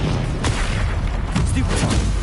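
Spell explosions and magic blasts from the video game Hogwarts Legacy, a dense run of booming bursts and crackling impacts layered over a continuous loud rumble, with no pause between hits.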